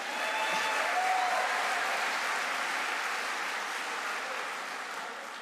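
Sustained audience applause at a University of Law postgraduate graduation ceremony, dense steady clapping from a large crowd that eases off slightly toward the end.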